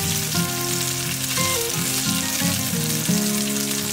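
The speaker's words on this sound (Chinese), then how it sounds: "翻面之后，将火改成小火，直到把鸡肉煎熟。" Chicken and lotus root meatballs wrapped in sesame leaves fry in olive oil in a flat pan, a steady, close sizzle running under background music.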